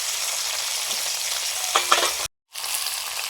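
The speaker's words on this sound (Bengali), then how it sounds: "বেগুনটা ভেজে নিচ্ছি উপরেতে" Brinjal (eggplant) frying in a pan, a steady close hiss and sizzle with a brief stirring clatter, cut off by a short silence before the sizzle resumes.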